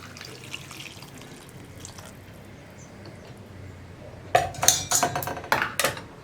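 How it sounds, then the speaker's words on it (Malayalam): Boiled water goes into a pressure cooker of egg biryani, a low steady hiss at first, then a loud close gush of pouring and splashing in several bursts toward the end, with no talk. "ഞാൻ ഇതിലേക്ക് ഇനി തിളപ്പിച്ച വെള്ളം ചേർക്കാൻ പോവാണ്"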